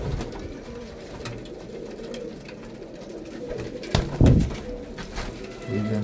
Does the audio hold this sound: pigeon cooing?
yes